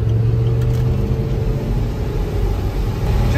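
A Range Rover engine holds a steady rumble at around 3,000 RPM while driving, heard from inside the cabin as a continuous low drone with no talk over it.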